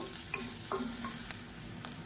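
Chopped onion with ginger garlic paste sautéing in hot oil, a soft steady sizzle with a few stirring scrapes, fairly quiet and without speech.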